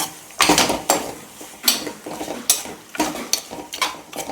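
Mutton with tomatoes being stirred in a metal pot at home, a ladle scraping and clanking against the pot in irregular, close, sharp knocks with short pauses between strokes.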